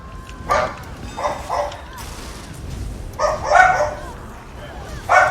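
Miniature dachshunds bark and yip in several sharp, excited bursts, some close and loud, with short gaps between volleys; a faint whimpering tone runs beneath.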